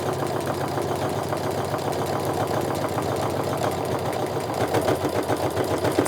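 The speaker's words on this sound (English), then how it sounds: "Now I'm just going to sew my 1/4 inch seam all the way down." A sewing machine running a steady quarter-inch seam along a tote bag, its fast even stitching rattle and motor hum continuing throughout, loud and close with no pauses.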